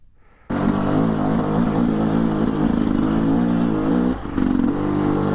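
A dirt motorcycle's engine kicks in suddenly and holds a loud, close, buzzing drone while the bike is moved, dipping briefly before surging back.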